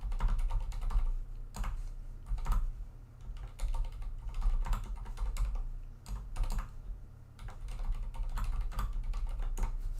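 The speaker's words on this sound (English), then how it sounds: "let me pull it up and I'll just like start typing into a Google Doc" Rapid typing on a computer keyboard into a Google Doc, a steady close patter of key clicks with brief pauses over a low background hum, no talk.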